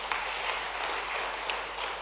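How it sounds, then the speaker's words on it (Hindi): Steady dense applause from an audience at a Madhya Pradesh government event, clapping loudly for the Prime Minister, a continuous even wash of claps with no talk. "माननीय प्रधानमंत्री जी का एक बार फिर जोरदार ताली बजा के अभिनंदन करें"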